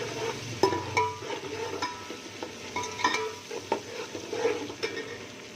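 Whole garam masala spices for chana pulao fry in oil in a pot, a continuous crackling sizzle broken by repeated spoon scrapes and taps, moderately quiet and close, with no talking.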